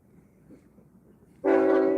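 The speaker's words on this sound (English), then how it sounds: "I hear the train coming." An approaching train at Ocean Beach Park sounds a loud sustained horn blast that cuts in suddenly after quiet outdoor rumble and continues to the end.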